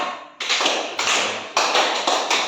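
A classroom of students claps hands together in a counted rhythm, five sharp broadband bursts of clapping in uneven groups, close and loud with no talking.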